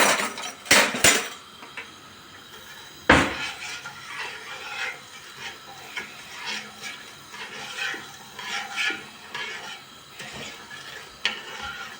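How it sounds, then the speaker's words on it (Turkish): A pot of sugar syrup for fig jam is stirred on a lit stove, with a spoon scraping and clinking against the metal in an irregular, close run of strokes and a few sharper knocks, and no voice over it. "Şerbetimizi karıştırıyoruz."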